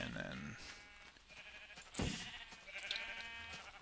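Sheep bleating in Minecraft, a few short synthetic bleats rising over a faint game backdrop, with a voice talking at moderate level alongside.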